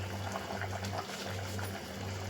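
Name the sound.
curry boiling in a pot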